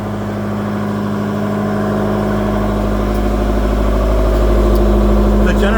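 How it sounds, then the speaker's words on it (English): Modern AC generator set of about 8 kilowatts running in the engine room of the steamship SS Explorer, a steady droning engine hum that grows slightly louder, with someone talking over it. "The generator you can hear running is a modern AC set that was fitted about 10 years ago."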